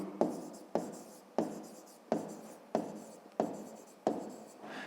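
Chalk or pen writing by hand for a fifth-grade math exercise, heard as seven sharp strokes at a steady, roughly even pace, each starting with a crisp tap and fading into scratchy friction, close and alone with no talking.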